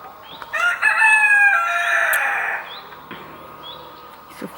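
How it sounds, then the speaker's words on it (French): A rooster crows loudly and close by in a long, drawn-out cock-a-doodle-doo, followed by a few faint clucks and small sounds before quiet returns. "Merci le coq, il va me parler aussi."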